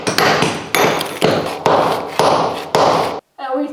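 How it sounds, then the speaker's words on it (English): Hammer blows strike a chisel while removing material during a living room renovation, six sharp loud impacts about half a second apart, each ringing briefly before the next, ending in a short pause and a faint scrape. "We are going to use a hammer and chisel."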